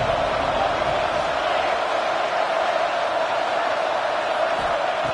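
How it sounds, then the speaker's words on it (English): A stadium crowd in the NCAA 25 college football video game roars as a steady, dense wash of noise, constant and fairly loud throughout, with no clear peaks. "3rd down, and the crowd really getting into it."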